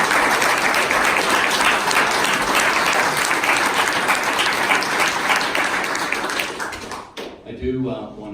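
A debate audience applauds for about seven seconds in a dense, sustained burst of clapping, then it cuts off and speech begins faintly.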